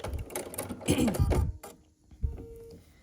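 A sewing machine stitching half-square triangles of a quilt block runs in a short whirring burst, then falls quiet before a brief faint mechanical clunk, with a soft voice briefly heard.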